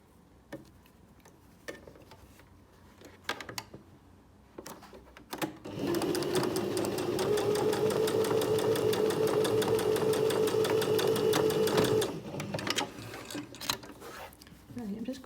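After a few scattered taps and handling clicks, a sewing machine stitches a sleeve seam in one sustained run of fast, regular needle ticks, near and prominent, before stopping and leaving quiet fiddling sounds.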